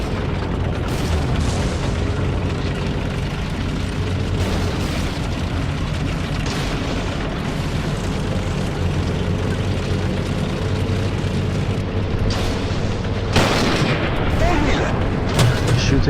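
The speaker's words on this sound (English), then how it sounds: "shoots it without seeing it through that building, and shoots it right in the center" Tank cannon fire and explosions in the War Thunder game, a steady loud rumble of engines and booming blasts with a heavier burst near the end, while a voice talks over it.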